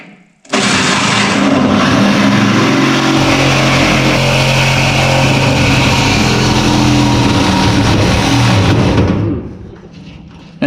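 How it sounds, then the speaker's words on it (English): A reciprocating saw cuts in a metal welding shop, starting abruptly into a loud, harsh, continuous buzzing drone that holds for about nine seconds before cutting off. "I don't like wasting sawzall blades."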